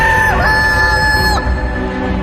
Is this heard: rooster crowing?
yes